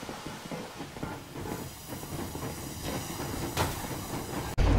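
Train in the video game Metro Exodus, set in winter, rolling off under full steam as a steady, loud, rumbling clatter of wheels and carriage noise, with a brief hiss near the end and no talking.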